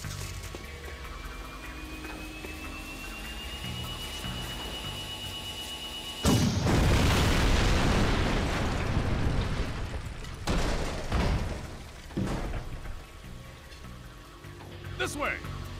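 A tank blasted apart in the Jak II video game, starting with a sudden loud booming explosion about midway, then rumbling, crackling blasts that fade over several seconds. Game music plays beneath it, and a voice is heard.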